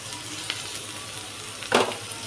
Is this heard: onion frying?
yes